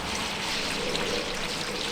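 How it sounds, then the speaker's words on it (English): A steady, close rush of water fills the whole moment without a break as it pours into a backyard fish pond. "now we can at least fill it up and give the fishes some more of their water"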